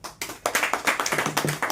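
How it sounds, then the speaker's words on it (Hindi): Listeners at a business seminar clap in a brisk, dense burst, the claps close and fairly rhythmic, filling the short stretch from start to finish. "तालियां दीजिए, बहुत बढ़िया, जोर तालियां"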